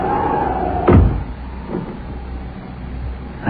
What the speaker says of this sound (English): I shut the door.